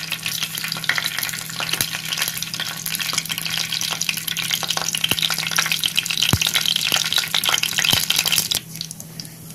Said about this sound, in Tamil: கடுகு வந்து பொரிஞ்சிருச்சு. இப்போ வந்து வெந்தயம் போட்டுக்கலாம்.